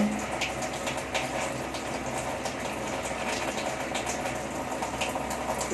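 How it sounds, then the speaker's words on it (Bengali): Water poured into a pot of cooking chicken, a steady hissing, bubbling wash of liquid against the hot pan that runs continuously at moderate loudness. "মাংসটা আবার সিদ্ধ করে নেবে, তাই জল দিয়ে দিচ্ছে"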